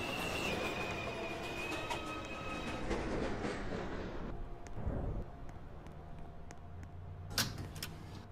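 A 2 express subway train bound for Flatbush Avenue rumbles into a New York station, loud rolling wheel noise and brake hiss fading as it slows to a stop, followed by quieter clanks and a sharp click near the end.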